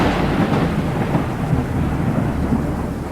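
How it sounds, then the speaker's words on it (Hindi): Heavy thunder rumbles steadily with rain pouring throughout, loud and close, with no voices. "तभी आसमान में तेज बिजली कड़कती"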